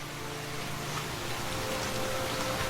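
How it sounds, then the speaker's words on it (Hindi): Steady, dense rain hisses continuously, loud and close, with no pauses or voices. "पूरी रात बारिश होती रही।"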